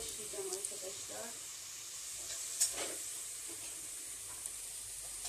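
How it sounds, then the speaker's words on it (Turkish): Soft, steady sizzling of onions sautéing in a pot with a little oil, a faint continuous hiss with a few brief pops and clinks. "Hemen hızlıca bunları kavurmaya başlayacağım"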